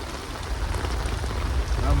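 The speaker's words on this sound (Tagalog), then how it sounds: "Lakas ng ulan." Heavy rain pours steadily at a campsite during a storm, a dense continuous hiss and patter on surfaces close by, with low rumbling underneath throughout.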